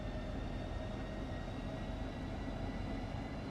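Class 395 electric train in Train Sim World 3, running on overhead power out of Ebbsfleet, a soft, continuous rolling drone with no talking.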